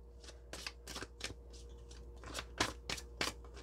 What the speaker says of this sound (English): We're supposed to shuffle the Death card back into the Major Arcana